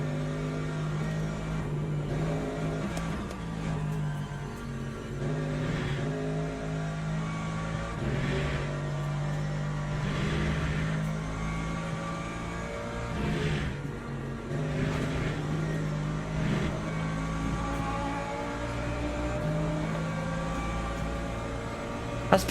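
An LMP2 prototype race car engine in the Le Mans Ultimate racing game drones steadily, rising and falling in pitch through gear changes and corners for over twenty seconds, close and continuous with no talk.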